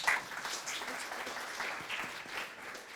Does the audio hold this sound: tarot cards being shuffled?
no